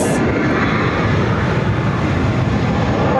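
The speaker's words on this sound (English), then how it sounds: "That must be Avianca incoming. It's Avianca Dreamliner. Of course, it's a Dash 8." A steady, loud roar of an Avianca Dash 8 turboprop airliner arriving at Barcelona airport, heard close and continuous without pause.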